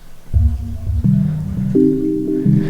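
Low synth chords sounding all their notes at once, changing a few times in slow succession, loud and alone.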